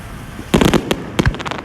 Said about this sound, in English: Nothing like a fireworks Friday, Pat, absolutely.